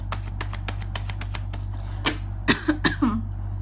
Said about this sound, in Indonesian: Sorry ya teman-teman, aku batuk.